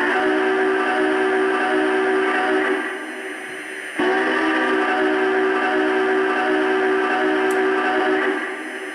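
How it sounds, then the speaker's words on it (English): The steam whistle of a Lionel LionChief Plus 2.0 Big Boy model locomotive blows loudly and nearly continuously with a brief dip partway through, its harmonic tone ringing over a hissing, slightly echoing background. "let's hear the whistle"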